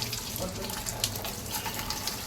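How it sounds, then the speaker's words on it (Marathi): Water runs steadily from a household tap while a tank fills, a constant close hissing splash at low level with no talking. "हे बघा पाणी हे पाणीचं स्पीड थोडा कमी झाला की समजायचं टाकी बंद झाली म्हणून"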